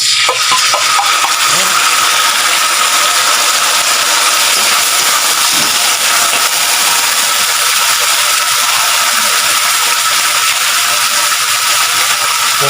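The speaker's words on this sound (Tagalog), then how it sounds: "lagay ko ng sardinas" Sardines sauté in a pan, giving a loud, dense, constant sizzle with faint scraping from stirring underneath and no talk.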